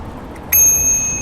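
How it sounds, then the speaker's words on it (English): A bicycle bell rings once with a bright, clear ding that rings on, then a second ding starts at the very end. Nobody talks. "I have a cute bell"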